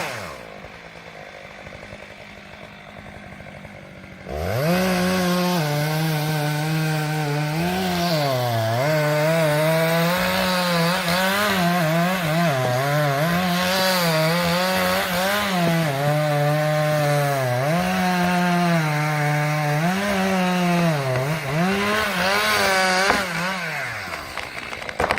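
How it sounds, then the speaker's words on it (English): A chainsaw runs loud and steady for about twenty seconds after a quiet start, its pitch dipping and rising as it bites into a large tree trunk near a rock edge. "a worker carefully used a chainsaw to cut into a large tree trunk close to the edge of the"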